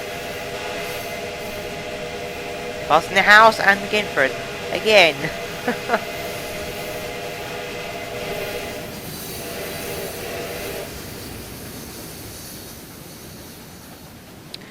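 A 484 Northern steam locomotive in Trainz 12 hauls a short freight train of five boxcars, giving two loud whistle blasts early on over a steady rolling rumble, while someone talks near the start.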